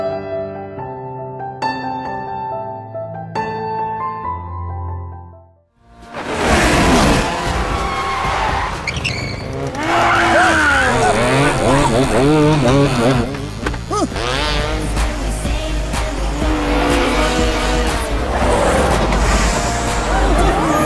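Go-karts race around a circuit with roaring engines and squealing tires, loud and continuous after a stretch of music, with crowd babble mixed in.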